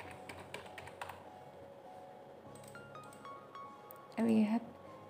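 Someone types on a computer keyboard while entering registration data, quick bursts of close clicking keystrokes early on, then sparse taps, with a brief louder clink and hum near the end.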